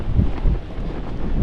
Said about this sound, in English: Bit windy.